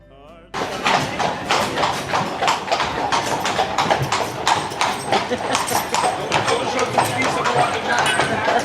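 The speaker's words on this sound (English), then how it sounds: "Went for a horse-drawn carriage ride through the national park." Rapid, steady clip-clop of horse hooves pulling a carriage through an Irish national park, loud and close throughout with a constant rumble of wheels underneath.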